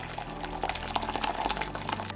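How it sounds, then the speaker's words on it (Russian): Freshly boiled water from a kettle pours into a container, about a litre, a steady close splashing fill with small irregular bubbling pops and drips. "Наливаю литр водички."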